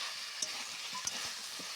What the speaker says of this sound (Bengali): কিছুক্ষণ কষিয়ে নেব।